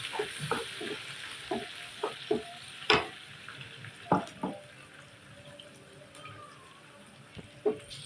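Garlic fries in a pan for a beef bistek dish. A soft sizzle runs underneath while a utensil makes repeated scraping stirs and clinks at an irregular rhythm, close and moderately quiet, with no talk.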